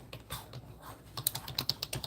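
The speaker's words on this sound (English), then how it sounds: "I'm gonna type in." Rapid clicking of fingers typing on a computer keyboard, close and fairly quiet, with irregular bursts of keystrokes growing busier toward the end.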